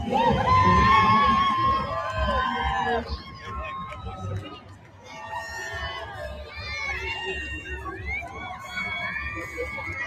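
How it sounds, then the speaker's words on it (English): A crowd of children at a show, shouting and chattering in a lively, noisy babble that swells and dips, with excited voices and cheers rising over the general hubbub. "That looks like an unimpressed crowd."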